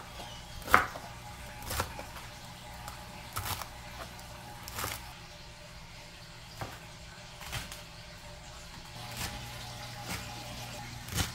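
A knife chopping callaloo on a board, about a dozen distinct close cuts spaced irregularly, one noticeably louder at the start, over quiet kitchen background with no talk.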